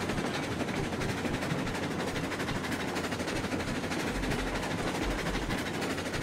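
A locomotive runs on rails in the RailRoads Online train game, a steady close rumble with fast rhythmic clatter that continues unbroken throughout.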